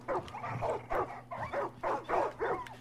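Dogs in Far Cry 5 barking and whimpering in an uneven run of short yelps and woofs, fairly close, over a low steady hum, with no speech.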